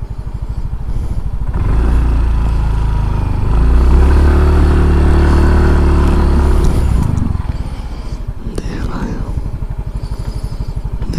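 A motorcycle engine labors loudly climbing a steep uphill road, revving hard and straining under load, then drops to a rougher idle near the end.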